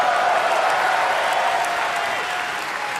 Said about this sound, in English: Clap, clap, clap, clap, clap, boys